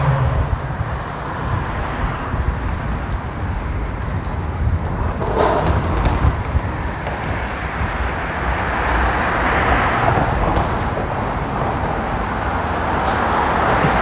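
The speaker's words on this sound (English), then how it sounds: "A lot of car traffic." Car traffic flows along a city street in Midtown Houston, a continuous broadband roar of passing vehicles with swells as cars go by, heard from the roadside.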